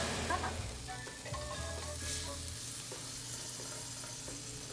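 Chicken sizzling on a stovetop grill pan at 180 degrees, a continuous close frying crackle with faint tonal clinks and a low background hum, no voices.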